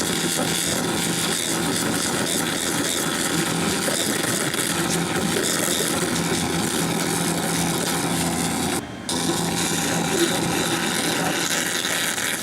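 A laser cleaner runs at 70% power stripping paint from powder-coated aluminum, a steady, loud, broadband buzzing hiss with a droning hum beneath, broken by one brief dropout near the end.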